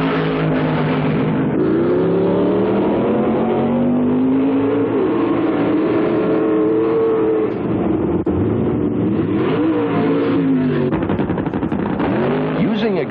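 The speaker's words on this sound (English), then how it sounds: "Quarter-mile drag racing came of age." Quarter-mile drag racing cars accelerating in a 1979-era recording, loud sustained engine roar with rising and falling revving pitches that sweep through the whole stretch.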